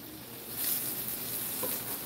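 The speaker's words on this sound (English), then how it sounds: "I love when the tomatoes saute a little bit with the onion and the garlic." Tomatoes sautéing with onion and garlic in a pan give a steady, soft sizzle and hiss throughout, fairly quiet and without speech.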